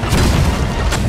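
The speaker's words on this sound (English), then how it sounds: "I'm shooting too high. There we go, that's a direct hit." Cannon fire striking a ship in a pirate video game: one heavy, loud, close boom with a deep rumbling body that rings briefly and then fades.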